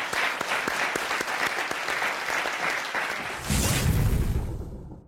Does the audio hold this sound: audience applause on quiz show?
yes